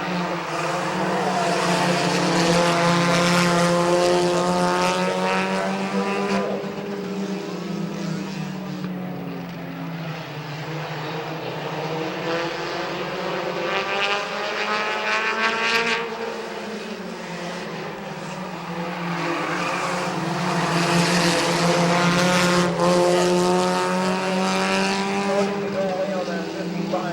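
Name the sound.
race cars lapping at Midvale Speedway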